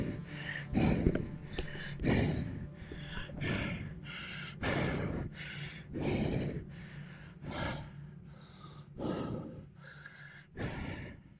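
Heavy, rapid breathing after a hard indoor cycling effort: a steady run of loud gasping inhales and exhales, close and alone, repeating roughly every second.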